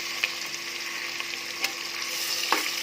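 Sliced onions fry in hot oil with bay leaves and whole garam masala for beef biryani, a steady close sizzle with crackling pops and occasional scrapes of stirring.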